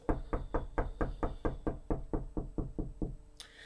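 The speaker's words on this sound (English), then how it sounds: "Let me knock on wood" Knocking on a wooden surface: a steady run of about fourteen even knocks, loud and close, with no voices, ending in a brief higher-pitched noise.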